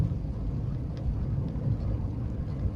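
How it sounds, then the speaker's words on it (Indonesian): A car engine hums smoothly while driving in fourth gear on a road, a low steady rumble with no talking. "Nah, ini suara mesinnya juga halus ya,"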